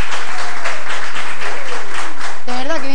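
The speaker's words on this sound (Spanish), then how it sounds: "Entonces, un aplauso." Studio audience applause at a televised talk show interview with a beauty queen: a loud, dense wash of clapping for about two and a half seconds, tapering as a voice takes over at the end.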